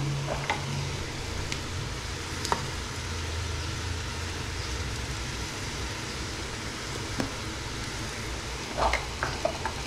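Spices and ingredients frying in a pot for Tlemcen-style Algerian couscous, a constant sizzle with scattered clinks and stirring knocks, steady and close, without speech.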